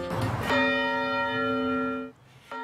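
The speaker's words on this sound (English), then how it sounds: "A blessing for any in earshot of the bell toll." A church bell tolls once in the Kawaiahao Church clock tower in Honolulu. The loud, ringing strike hums for about two seconds, then a second strike begins just as the clip ends.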